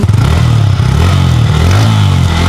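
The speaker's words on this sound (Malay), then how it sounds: "Jom kita dengar bunyi enjin ni" A Yamaha MT-15 motorcycle engine idles and revs steadily up close, loud and continuous with a rough, clattering mechanical tone.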